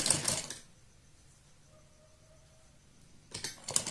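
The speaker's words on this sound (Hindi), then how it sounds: "इसके ऊपर इस तरह से हम सिलाई लगा देंगे" A sewing machine stitches a strip onto a baby frock in two short bursts of rapid mechanical chatter, one at the start and one at the end, with near silence between them.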